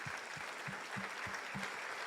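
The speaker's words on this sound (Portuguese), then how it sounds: "Você pode dar uma salva de palmas para Jesus pela vida desse casal aqui de vocês?" Church congregation applauding a couple, a moderate wash of clapping with a steady low thumping pulse beneath it, fairly distant and even throughout.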